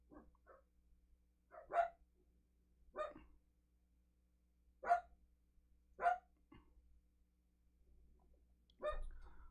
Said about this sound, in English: Oh, my dogs are getting involved now.